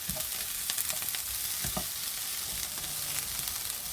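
Onions and garlic fry in a pan, a continuous bright sizzle with occasional soft scrapes of stirring, close up and with no voices.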